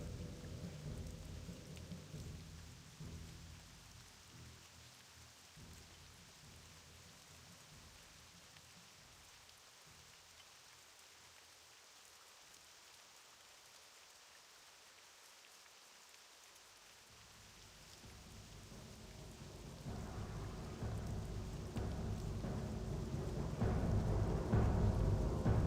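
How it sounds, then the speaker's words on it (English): Rain and thunder in World of Warcraft: The Burning Crusade Classic, a soft steady downpour with low rumbling thunder rolls that fade, then swell louder again toward the end, with no voices. "We'll wait in the rain"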